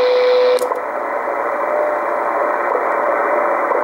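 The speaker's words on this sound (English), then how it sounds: "You hear the time pips, but not the tone." A WWV time-signal broadcast on shortwave radio runs through a notch filter: a steady tone sounds over hiss, then cuts out abruptly, leaving loud static with faint, regular ticking pips.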